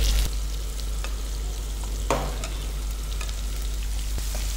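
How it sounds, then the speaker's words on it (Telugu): Garlic, green chilli, onion and capsicum fry in a pan with a steady, close, even sizzle and one louder stir or scrape partway through. "ఇవన్నీ కూడా ఫ్రై చేసుకుందాం."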